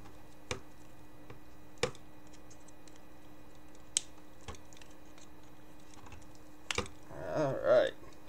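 Snips cut through a headset in a few sharp, isolated clicks spaced seconds apart, followed by a brief rustling burst near the end, quiet and close.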